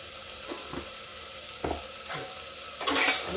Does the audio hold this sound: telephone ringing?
no